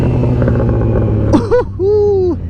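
A 2009 Yamaha FZ6R motorcycle with a new M4 aftermarket exhaust rumbles at idle, then gives two sharp throttle blips that rise and fall in pitch, loud and close.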